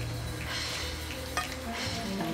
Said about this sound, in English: I'm just going to spoon that over.